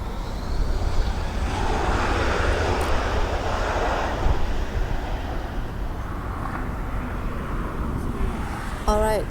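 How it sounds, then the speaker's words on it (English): A United airliner lands on the north runway at LAX, giving a broad, sustained jet roar heard from a distance that swells and slowly fades. Some faint talk sits underneath. "Oh, United just landing."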